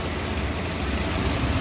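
A Fiat Strada 1.8 16v E.torQ engine, freshly reassembled after a head gasket job, idles smoothly with a steady, even hum and no other sounds.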